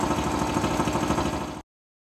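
A pitch-shifted oil pump voices a third RC tank, making a steady rhythmic mechanical chug with a faintly knocking pulse, moderately loud and alone, running about a second and a half before ending sharply.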